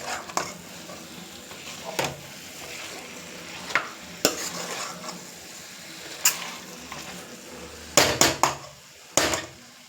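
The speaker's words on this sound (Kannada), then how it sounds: "ಸ್ವಲ್ಪ ಅದು ಚೆಂದಾಗಿ ಸ್ವಲ್ಪ ಹಸಿ ವಾಸನೆ ಎಲ್ಲ ಹೋಗಿ ಫ್ರೈ ಆಗಲಿ" Gongura mutton frying in a pan, stirred as it cooks: a low sizzle broken by sharp spoon-on-pan scrapes and knocks that cluster near the end, with no speech over it.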